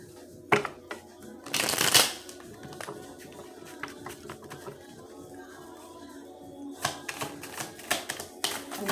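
Oracle conjure cards being shuffled close by, a fast riffling burst in the middle followed by scattered card taps and softer handling sounds, all quiet with no talk.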